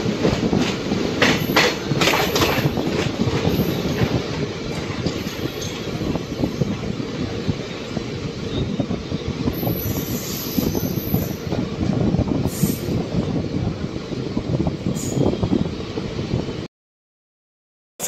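Rajgriha Express passenger train, number 13234, running on rails in India between Patna and Rajgir; a loud, steady rumble with rhythmic clickety-clack and occasional high squeals, continuous and close, then stopping abruptly near the end.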